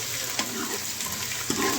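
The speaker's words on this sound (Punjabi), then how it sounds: "ਆ ਦੇਖੋ ਭੁੱਜ ਰਿਹਾ ਹੈ ਲਸਣ ਪਿਆਜ਼" Garlic, onion and ginger frying in oil for a tadka for sarson da saag, a constant close sizzle with a few soft stirring knocks.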